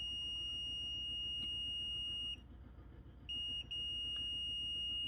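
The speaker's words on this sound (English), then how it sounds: "There's a beep. It's continuity." A multimeter's continuity tester beeps as a steady high tone while probing the pins of a USB-C port for a PS5, sounding near and clear, dropping out briefly in the middle before resuming.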